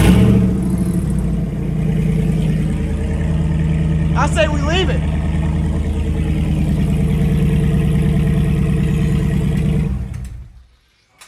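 A 2019–2022 RAM 1500 pickup with a 5.7L HEMI V8 and PPE cat-back exhaust rumbles loudly and steadily at close range with a brief rev in the middle, then cuts off near the end, with people talking over it.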